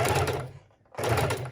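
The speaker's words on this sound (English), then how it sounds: "when I'm sewing bulky items, I do like using my heavy-duty machine" A heavy-duty sewing machine stitches through paper in two quick close bursts split by a brief silent gap, with no voices.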